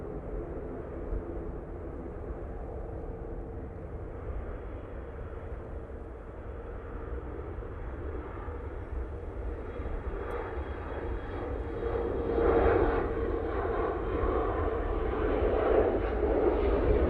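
A KLM airliner departs Manchester Airport for Amsterdam Schiphol, its engine roar a steady broadband rumble that swells and grows louder toward the end as it climbs away, with no voices over it.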